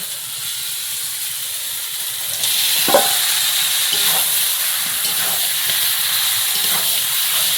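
Duck meat hits a pan of fried spiced masala and sizzles with a loud, bright, steady hiss that swells as it lands. A few spoon clanks and stirring scrapes sit beneath the roar.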